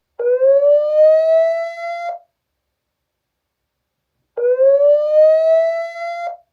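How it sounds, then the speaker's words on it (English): An Annke 4K indoor security camera's built-in siren gives two identical electronic blasts, each about two seconds long with a slightly rising pitch, separated by silence, loud and close. "This does have a built-in siren"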